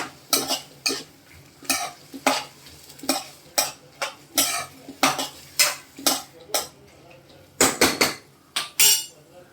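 Washed field beans (val) being sautéed in a pan, with repeated rhythmic scraping and clanking of a metal spoon against the pan over a soft sizzle, close and regular with no voices.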